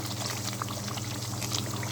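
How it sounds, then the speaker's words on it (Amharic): Hot water poured onto injera firfir (dirkosh injera firfir) in a cooking pot, a steady close pouring and trickling wash lasting about two seconds with no talk over it. "ሙቅ ውሃ ላፍስስበት፣ ትንሽ ረጠብ እንዲል።"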